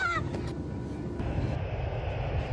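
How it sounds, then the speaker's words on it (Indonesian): A private jet's engine drones at a low, steady level, muffled and moderately quiet, with a few faint higher tones at the start. "Laura dibawa ke pesawat pribadi Massimo, untuk keperluan bisnis di kota Roma"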